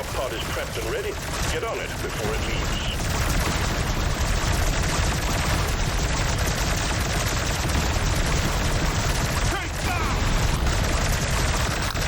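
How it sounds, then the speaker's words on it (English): Gunfire rattles on in DRG: Survivor, where an ArmsKore coil gun fires alongside other weapons in a loud, dense, nonstop barrage, with a short dip near the end before the shooting resumes. "Coil gun."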